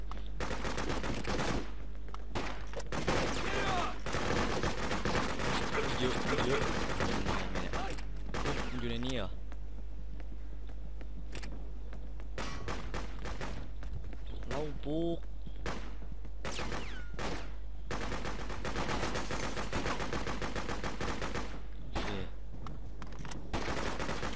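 Rapid bursts of gunfire from the video game Freedom Fighters crackle through most of the stretch, dense and loud, with game voices and player talk mixed in among the shots.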